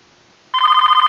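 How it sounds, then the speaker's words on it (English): After a half-second of near silence, a video game telephone starts ringing, a bright electronic trill pulsing rapidly and loudly up close. "Folks, I got a phone call."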